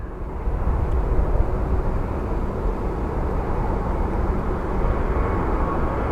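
A Boeing 767 airliner at Phoenix Sky Harbor International Airport, preparing for departure, gives off a constant broad engine roar and rumble that stays steady at moderate distance, with no talking over it.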